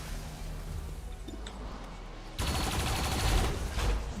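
A burst of automatic gunfire in XCOM 2 erupts suddenly and loudly after a quieter stretch of game ambience, continuing as a dense rattling volley.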